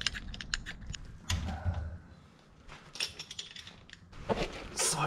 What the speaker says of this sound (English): this basically just goes on the bleeder on your caliper like normal, and then you just squeeze it, build some pressure up